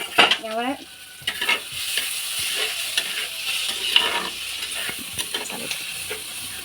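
Onions for a fish curry are stirred in a hot pan, with a spoon scraping and tapping in short strokes over a soft, continuous sizzle.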